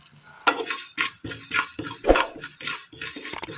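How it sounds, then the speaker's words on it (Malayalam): Sesame seeds stirred in a pan, with repeated scraping strokes of a utensil against the metal at a steady rhythm, close and moderately loud, with a faint sizzle and no talk. "റവ തയ്യാർ ചെയ്തെടുത്ത അതേ പാനിലേക്ക് തന്നെ നമുക്ക് ഒരല്പം എള്ള് കൂടി ഇട്ട് കൊടുക്കാം."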